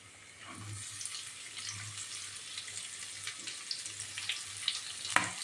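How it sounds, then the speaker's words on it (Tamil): Sliced onion sizzles in hot oil in a pan for capsicum rice, a soft, steady frying hiss with light stirring clicks and a louder scrape near the end. "இப்போ நான் ஆனியன் போட்டுக்கிறேன்."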